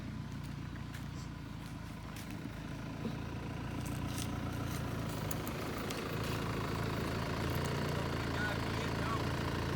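A farm tractor engine idles steadily at a field in Thailand, a low continuous rumble that grows slightly louder, with a voice speaking over it.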